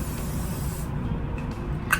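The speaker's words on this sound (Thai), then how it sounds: "เป็น กลิ่นกุหลาบเหมือนกัน เป็นโรสมินเนอรี่ นะคะ สเปรย์นี่" A rose-scented makeup setting spray fires a single short, close hiss, with a brief second puff near the end over faint room noise.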